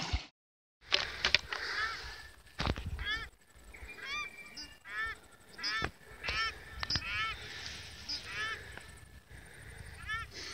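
Geese honking repeatedly outdoors near a lake, a noisy flock of calls at medium distance over rustling and handling noise, with bursts of irregular honks throughout.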